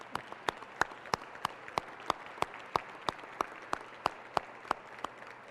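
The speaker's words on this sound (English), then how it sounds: "I'm going to applaud them." Sparse, evenly spaced handclaps ring out at a public safety awards ceremony for emergency dispatchers, sounding like a small audience or a single person clapping steadily and fairly faint, with no talking.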